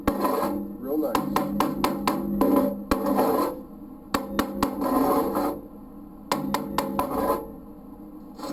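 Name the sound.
chipping and scraping slag off a stick weld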